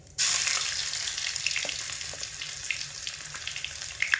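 Garlic paste hits hot oil already holding whole cumin seeds, bursting into a sudden loud sizzle that stays steady and crackling, heard up close with no talking, while cooking a prawn dish with pui greens and kochu flowers.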